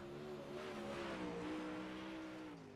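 Dirt late model race car, the number 19, running on the Port Royal dirt track: a steady, faint engine drone with a sustained revving tone across the whole clip, heard from a distance.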